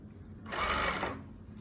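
Sewing machine stitching and ruffling the fabric of a skirt, a brief whirring run of rapid needle strokes that starts abruptly, holds for about half a second, then fades, close up.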